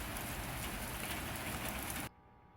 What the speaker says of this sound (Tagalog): ang lakas ng ulan talaga